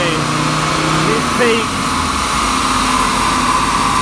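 A Mercedes W123 diesel with an OM617 engine and an STT turbo kit roars loudly and continuously under load, a dense, steady engine noise close by with a faint whistling tone rising over it.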